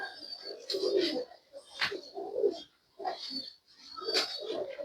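Pigeons in a breeder loft coo in soft, repeated throaty phrases, several rolling calls with brief pauses between them, close by and fairly quiet.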